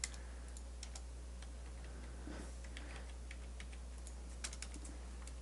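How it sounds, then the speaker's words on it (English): Typing on a computer keyboard: light, irregular key clicks close by, spaced out over a steady low electrical hum, with no talking. "I'm just going to type it in here"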